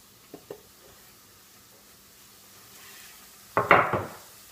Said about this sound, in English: Y'all heard that sizzle?